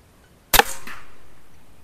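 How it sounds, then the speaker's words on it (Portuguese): One loud, sharp report comes from a P35X Evolution air pistol firing a slug at 51 metres. It is heard close and alone, followed by a brief echoing whoosh that fades slowly. "E o quinto disparo."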